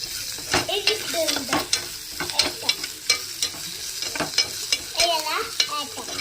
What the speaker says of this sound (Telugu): టమాటాలు అయితే టమాటా కూడా వేసుకుంటున్నాను నేను ఉప్మాలో